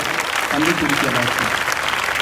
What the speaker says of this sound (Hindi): शुक्रगुजारी की तालियां बजाइए ज़रा जोरदार